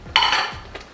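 A lid clatters onto a simmering pot of food in a home kitchen: a sharp metallic clank followed by a brief ringing rattle, then a softer tap, close and fairly loud with no talking.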